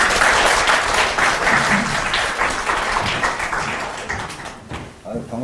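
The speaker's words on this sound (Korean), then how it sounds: "박수로 좀 환영해 주십시오" A studio audience at a Korean political talk show applauds to welcome a guest, dense sustained clapping from a crowd that holds steady and eases slightly toward the end.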